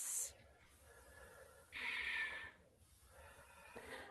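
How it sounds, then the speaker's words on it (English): During a yoga session, a person takes three deep, slow breaths, each a soft, airy rush with quiet pauses between them. "deep breaths"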